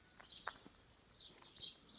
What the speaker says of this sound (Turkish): Kuşlar ötüyor sabah sabah.